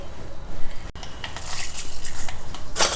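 Mustard seeds dropped into a pan of hot sesame oil for tamarind rice, giving a steady run of small crackling pops and sizzles that grows brighter toward the end, close and moderately loud with no talking.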